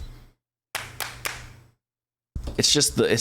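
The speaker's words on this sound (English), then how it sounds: "so right there, that's 4 people clapping" Sampled handclaps from the El Clapo plugin sound like four people clapping in a short, tight burst. A voice speaks before and after them.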